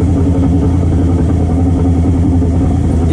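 A motorcycle engine runs steadily and loud throughout, close by, its low clattering rumble continuous with no talk over it, heard while riding through the streets of Nova Campina, São Paulo.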